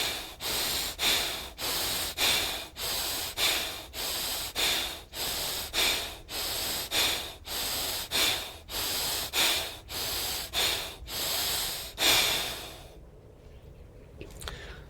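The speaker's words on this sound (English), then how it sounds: "begin breathing forcefully and out and in" Forceful pranayama breathing, a rapid run of about twenty sharp, rhythmic in-and-out breaths, loud and close, before settling into quiet near the end.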